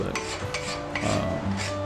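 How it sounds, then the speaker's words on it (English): Steel rasp filing a blade while shaping a primitive knife at a forge, a close, gritty scraping that repeats in a steady back-and-forth rhythm of strokes, with no voices. "Just using a rasp."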